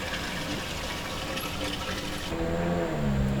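Wastewater from an RV black tank rushing steadily through a drain hose, a continuous loud gushing that shifts to a gurgling, sloshing flow near the end.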